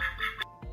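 A duck in a children's read-aloud story gives two quick, close quacks, clear and alone with no talk.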